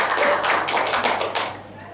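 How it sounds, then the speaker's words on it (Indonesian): Crowd applause at a teachers' workshop in Cilacap, a dense, continuous patter of clapping that fades slightly toward the end. "Oke, beri tepuk tangan dong buat selanjutnya."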